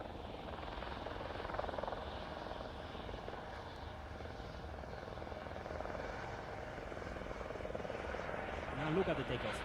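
Helicopters flying in close formation at the RAF Waddington airshow, a steady rotor drone with engine hum that swells gently and stays continuous at a moderate distance, with no voices.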